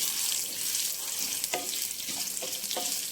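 Dried red chillies, split in two, frying in oil in a pan for gongura pickle: a steady close sizzle and hiss with light stirring and scraping clicks, no talk.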